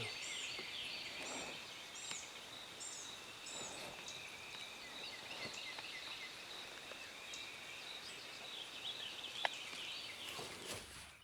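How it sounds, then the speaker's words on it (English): A wild turkey gobbles repeatedly from a distance during a spring turkey hunt, faint rolling calls recurring over a steady outdoor hiss like light rain. "There's a bird gobbling to our right and over my shoulder a little bit."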